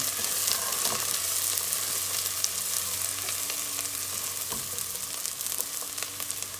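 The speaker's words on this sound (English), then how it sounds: "I'm gonna go over here and stir this stuff because it's going pretty good here already" Ingredients for tortilla soup fry in a pan and are stirred, a dense, continuous bright sizzle heard up close with faint occasional utensil scrapes and no talk.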